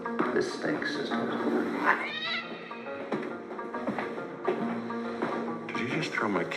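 A cat yowling and meowing, used as a sound effect in a comedy podcast: drawn-out wavering caterwauls with rising and falling pitch, loud and close, mixed with a voice and other sounds.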